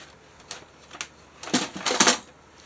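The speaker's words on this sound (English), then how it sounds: "we're going to score each one of these at the top" Paper being scored for a junk journal, a series of sharp scraping strokes that grow louder and denser toward the end, close and alone with no talk.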